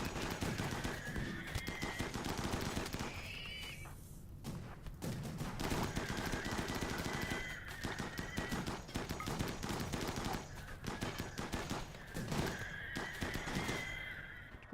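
Mini turrets in the video game RimWorld fire repeated bursts of rapid gunfire across the whole stretch, loud and close, with short pauses between volleys and no talk.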